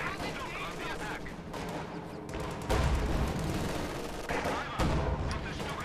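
Rapid bursts of Stuka rocket and gun fire in a Company of Heroes 2 match, dense crackling blasts and booms rolling over each other, heavy throughout with a louder surge near the middle and end.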